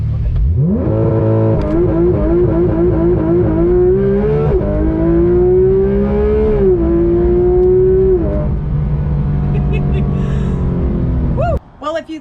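A car accelerates hard through several gears, its engine note climbing in repeated rising sweeps, loud and close, before easing off near the end.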